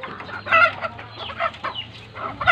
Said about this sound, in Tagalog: Yan ang mga manok.